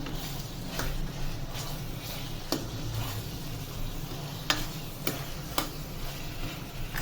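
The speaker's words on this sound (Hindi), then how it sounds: "चम्मच चलाते जाएंगे, चिकन हमारी लग ना जाए।" Chicken karahi cooking in a pan, a soft steady sizzle with a spoon stirring through it and occasional sharp metallic taps against the pan, close and quiet.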